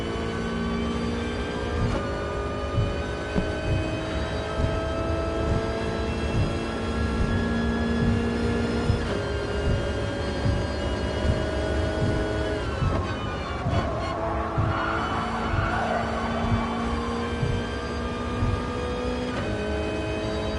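Toyota race car in GT Sport at Tokyo, engine held high near 7,500 rpm with a steady loud harmonic drone and pitch shifts as it pulls, alone with no talk.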